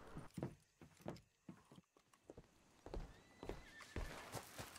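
A horse in Red Dead Redemption 2 gives a short neigh among a run of clip-clop hoofbeats, the steps coming in uneven bursts at close range with no talk over them.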